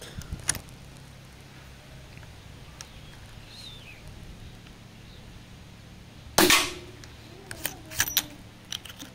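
Air rifle firing a pellet outdoors at a 20-meter range: one loud, sharp crack in the middle, with faint clicks before it and a few small knocks and clatters after.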